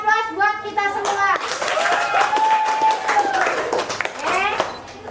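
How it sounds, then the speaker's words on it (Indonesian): An audience at an anti-bullying activity in an Islamic boarding school breaks into steady clapping, with children's voices chattering and calling out over the applause from start to end. "Beri aplaus buat kita semua."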